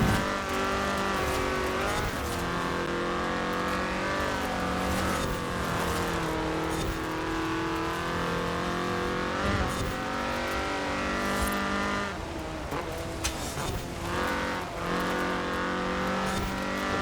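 Race car engine in the Forza Horizon 4 video game, a continuous loud engine note with shifting pitch as it accelerates and changes gears, with no talking.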